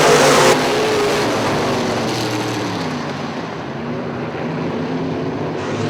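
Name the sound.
modified race cars accelerating at Cherry Speedway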